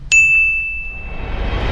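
A single bright notification bell ding rings out clearly and alone, its pure metallic tone decaying over about a second into a low background hiss.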